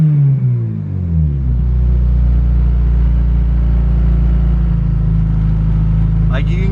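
A car engine idles high at around 2,500 RPM with the gearbox out of gear, giving a loud, steady drone that holds level throughout after a brief rise at the start, with a short scrape near the end.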